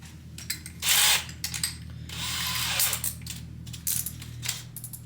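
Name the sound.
power drill with Diablo extension drilling through wood backing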